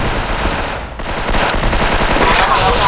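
Rapid automatic gunfire in a shooter video game, dense continuous bursts of shots up close and loud, with faint voices underneath.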